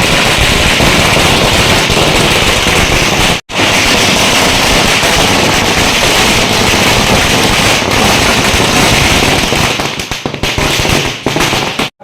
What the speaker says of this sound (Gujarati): તેઓના ઘરની બહાર ફટાકડા ફોડ્યા